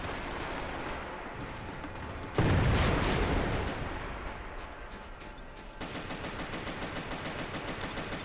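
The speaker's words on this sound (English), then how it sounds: "let's switch to dual pistols" Dual pistols firing in Max Payne 3 multiplayer: a burst of rapid shots after a quiet stretch, then bursts of fast repeated gunfire through the rest, moderately loud with no talk.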